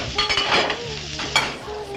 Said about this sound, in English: Grease popped, plates clattered